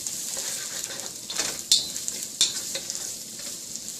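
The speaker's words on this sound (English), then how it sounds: "just giving these onions a little saute" Onions sautéing in a wok with no salt or spices added, giving a steady close sizzle with a few sharper stirring scrapes and clanks.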